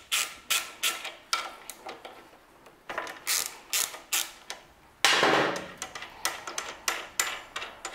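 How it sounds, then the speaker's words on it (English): Ratcheting wrench loosening the brake caliper screws on a BMW S1000RR motorcycle, a steady run of close, crisp clicking strokes with a short pause midway and a louder stretch after. "The first step is open the screws from the brake caliper."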